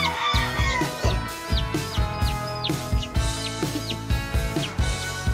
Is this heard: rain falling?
no